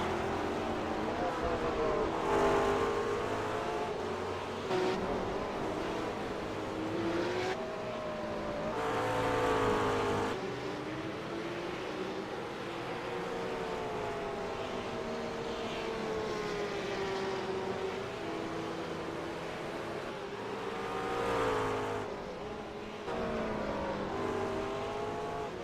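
Race car engines from a McLaren MP4-12C and rival GT cars in a sim racing game at Brands Hatch, with steady engine drone and rising, falling pitch sweeps as the cars accelerate and shift, continuous throughout.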